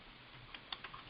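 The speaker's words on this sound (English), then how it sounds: "I'm going to type." Keystrokes on a computer keyboard during an online webinar, a handful of faint, irregular clicks near the mic over a quiet background hum, with no talking.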